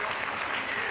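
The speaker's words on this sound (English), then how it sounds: "let's give him a round of applause" A conference audience at a women's economic forum in Kenya gives a round of applause. It is a brief, dense wash of many hands clapping, heard at a moderate distance.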